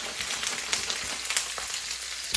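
Frozen potstickers fry in hot oil in a pan, giving a loud, steady close-up sizzle with small crackling pops throughout and no talking.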